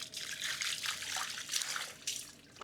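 Tap water runs steadily to rinse slippery tire sealant off a Sniper 150 motorcycle wheel during a valve replacement, a close, soft splashing trickle that continues throughout without speech.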